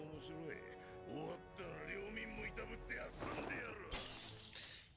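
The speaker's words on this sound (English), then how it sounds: "Why would you break that nice glass?" Glass shatters in an anime episode, a sudden bright crash near the end that follows spoken dialogue over a layer of music.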